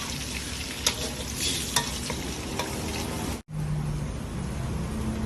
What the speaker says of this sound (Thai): ใส่ไข่ลงไปนะครับ แล้วก็คนกัน